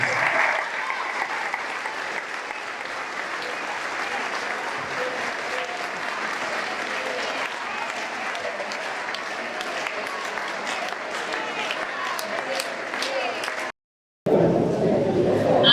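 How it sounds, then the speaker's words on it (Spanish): A crowd at a university tribute event breaks into long, sustained applause with cheering and some chatter mixed in, holding steady for many seconds before a brief cutoff. "Fuerte el aplauso."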